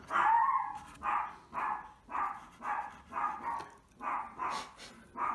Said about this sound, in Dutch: Even de hond de mond snoeren.